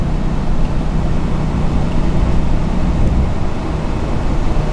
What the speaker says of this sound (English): I hear the exhaust break now.